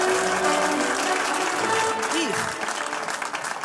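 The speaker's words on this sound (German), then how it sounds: "Applaus für das Jahr" Dense, steady applause from a large comedy show audience fills the whole stretch, with a voice briefly speaking over the clapping near the end.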